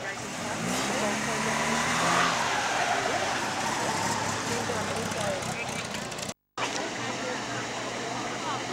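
A classic Mk 2 Ford Mustang with upgraded LED headlights rolls past during an Australian classic car rally in Cairns, giving a steady, fairly loud engine and road rumble with a brief dropout near the end.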